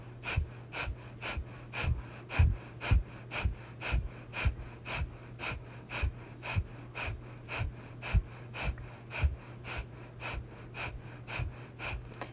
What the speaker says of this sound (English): pumping that navel breath of fire. Exhaling out the nose as you pump that stomach